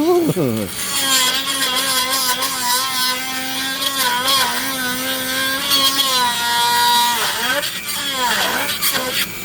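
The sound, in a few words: Dremel rotary tool carving purple heart wood ring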